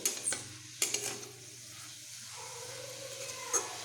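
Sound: frying radish greens in pan

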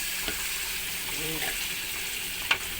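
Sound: stir-frying pounded chili, shallot and garlic paste

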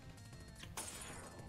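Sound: glass breaking in a video game

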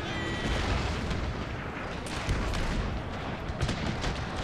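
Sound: mortar artillery firing in video game Total War

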